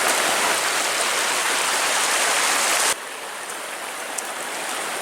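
A forest stream after heavy rain gives a dense, steady rush of flowing water, loud and close, which drops suddenly to a softer, more distant wash partway through.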